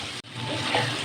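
Carrots and tomatoes sizzle in a hot pan for a Pakistani lauki sabzi, a steady close hiss and crackle with a brief clatter near the start.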